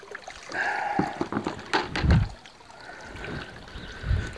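Fresh water is poured from a bucket into a koi pond filter, giving close splashing and trickling in uneven bursts with a couple of heavier sloshes, no talk.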